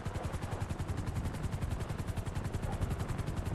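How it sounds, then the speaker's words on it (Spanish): A helicopter descends in the GTA RP video game, a steady rapid rotor chop pulsing throughout at moderate level with no talking. "ese helicóptero está como... Hombre, viene, viene bajando ya"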